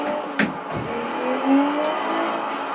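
A BMW 7 Series sport in the BeamNG driving game revs steadily, a continuous mid-pitched engine drone with a small rise and a faint tick, heard alone.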